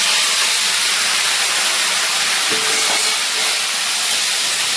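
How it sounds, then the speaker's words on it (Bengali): Boiled pumpkin greens drop into a pan of fried potatoes, setting off a loud, continuous steamy hiss that fills the whole stretch without talk. "এইবার সিদ্ধ করে রাখা শাকগুলো আমি এর মধ্যে দিয়ে দেবো।"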